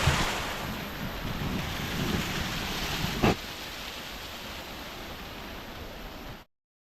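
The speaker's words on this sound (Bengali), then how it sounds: "এখানে আবার এক জায়গা থেকে এই বাড়িধারা ঝর্ণার আকারে পড়ছে" Waterfall water cascading over rocks at Rock Garden in Darjeeling, a steady, loud, broadband rush that holds constant throughout, with one brief knock midway and no voices.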